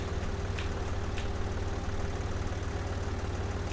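A tractor engine idles in the Pro Farmer 2014 farming game, a steady close mechanical drone with a fast regular pulse running unbroken, with a couple of faint clicks and no talk.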